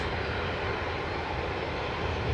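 An ATR turboprop airliner taxis toward the runway at Aberdeen airport, its engines giving a steady, loud broadband drone with a low rumble that holds constant throughout without any talk.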